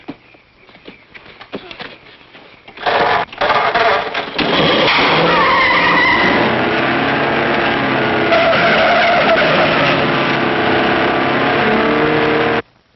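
A car in an old Hollywood classic film pulls away with squealing, skidding tires. After quieter movement, the engine and tire noise swell into a loud, sustained rush that lasts several seconds and then stops abruptly.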